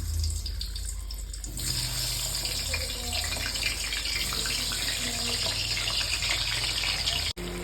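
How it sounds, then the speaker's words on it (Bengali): Potatoes coated with salt and turmeric frying in onion-flavoured oil for chicken biryani, a steady loud hiss and sizzle running throughout with no talk, cut by a brief dropout near the end. "এবার ওই পেঁয়াজের তেলেই আমি ভেজে নেবো এই আলুগুলো।"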